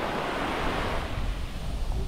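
Waves wash onto Natadola beach in Fiji as a continuous, loud broadband surge of surf and wind, steady throughout with no voices.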